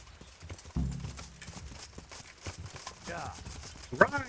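Hooves clip-clop across the ground in a medieval siege scene of the game Kingdom Come: Deliverance, a brisk run of steps close by with a snort or whinny, joined by scattered talk.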